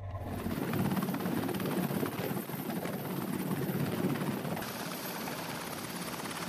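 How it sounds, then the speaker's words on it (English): A Seahawk helicopter on a navy destroyer's flight deck roars steadily and loudly with dense rotor and turbine noise that holds without a break for the whole stretch. "One of the main features of the DDGs is their Seahawk helicopters"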